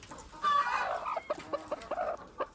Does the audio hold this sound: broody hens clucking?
yes